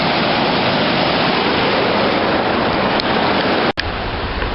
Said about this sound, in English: Got a nice little brook action